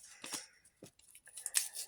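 A paper surprise packet is torn open in a few quick, close, faint rips and crinkles, separated by short pauses.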